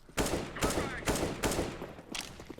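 Rapid bursts of gunfire crack out in a loose string of four or five volleys, loud and close, with a voice talking faintly underneath.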